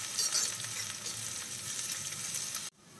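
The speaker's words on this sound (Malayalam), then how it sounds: "ഇനി ഇതിലേക്ക് നമ്മുടെ ചെറിയ ഉള്ളി അരിഞ്ഞത് അതും കൂടി ചേർത്ത് കൊടുക്കാം" Chopped shallots fry in a pan for a Kerala-style prawn curry with ground coconut, giving a continuous close sizzle with light stirring. No one speaks, and the sizzle drops off sharply near the end.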